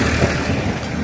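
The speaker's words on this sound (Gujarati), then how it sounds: "અને પવન શરૂ છે" Strong storm wind gusts across open farmland in heavy rain, a loud, close rumbling roar buffeting the microphone for about a second, with no voices.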